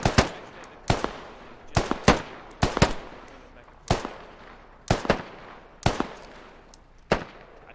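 Gunfire rings out in a Squad squad-shooter video game, with sharp, loud single and double reports roughly every second, each trailing off in a short echo.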